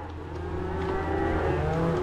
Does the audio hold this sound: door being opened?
no